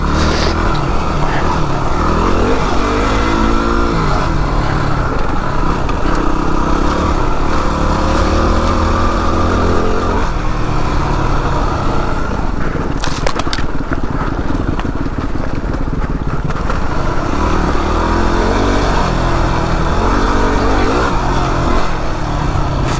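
Yamaha WR250R dual sport motorcycle ridden on a loose dirt trail, its engine loud and constant throughout with repeated rising and falling revs as the bike bounces back and forth, plus a brief burst of wind or brush noise midway.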